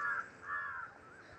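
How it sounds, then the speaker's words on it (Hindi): A crow caws near a koel outdoors near a drain. Two drawn-out, fairly faint caws sound in a row over a soft hiss of background noise, with no one talking. "कौआ भी बोल रहा है कोयल के साथ"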